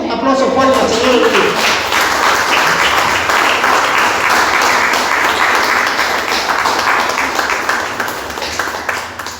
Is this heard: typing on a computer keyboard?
no